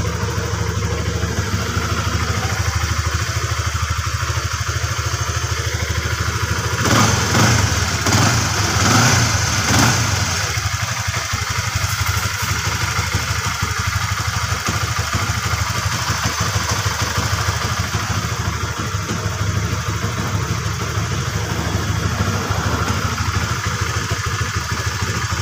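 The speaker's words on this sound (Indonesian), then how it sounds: "Untuk suara mesin halus ya, tidak ada masalah." A Honda CB150R motorcycle engine idles steadily up close for a long stretch, even and unbroken, with a brief rattly burst partway through.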